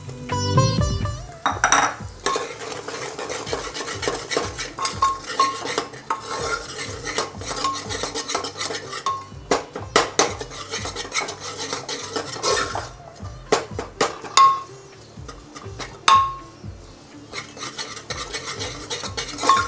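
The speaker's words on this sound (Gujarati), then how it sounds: "અને સારી રીતે હલાવશું આપણે" Spoon stirring Sindhi vegetable kadhi in a metal pot after curry leaves go in, with steady scraping and clinking against the pan and a faint sizzle underneath, close and continuous.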